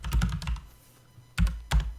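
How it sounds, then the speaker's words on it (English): Loud, clacky computer keyboard typing during a gaming livestream, a quick cluster of key strikes, a short pause, then a few more sharp presses, close to the microphone. "keyboard is so noisy"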